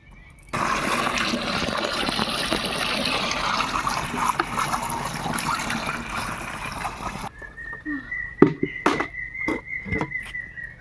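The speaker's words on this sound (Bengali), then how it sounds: "ওই তো জল বেরোচ্ছে এটা থেকে, দেখো চিপে ধরতে হয়" Water rushes steadily out of a squeezed pipe in a tea garden for several seconds, then stops, leaving a quieter stretch with a few short knocks and a thin, sustained high tone.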